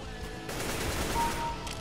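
Rapid gunfire in a PC shooter video game, a dense continuous burst of shots running through the whole stretch at steady, fairly loud level.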